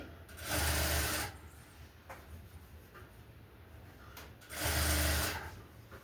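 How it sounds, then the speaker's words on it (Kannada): A sewing machine stitches a blouse seam, running in two loud, steady bursts of rapid whirring separated by a quiet pause. "ಹಿಂಗೇನೆ ಇನ್ನೊಂದು ಹೊಲಿಗೆಯನ್ನು ಹಾಕ್ಕೊತ ಹೋಗೋಣ"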